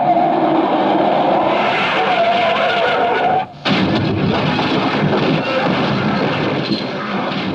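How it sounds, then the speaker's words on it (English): A radio sound effect of a car skidding off a curve: a loud, sustained roar of tire and engine noise, cut by a brief sharp break midway, then a rough burst that trails off. "That's the third car that's missed the curve today."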